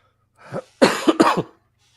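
A person clears their throat up close, a short rasp followed by two harsher bursts, with no talking.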